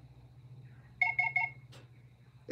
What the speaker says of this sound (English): It chirps on my phone.